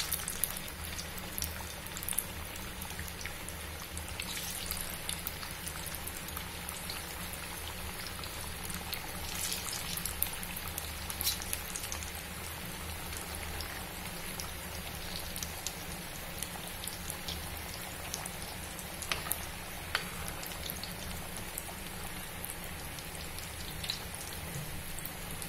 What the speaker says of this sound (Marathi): आता पुढचे वडे आपण तळायला घालूया.